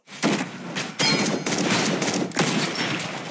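Rapid bursts of video game gunfire rattle in dense, overlapping volleys with a few heavy thumps, loud and close throughout without any talking.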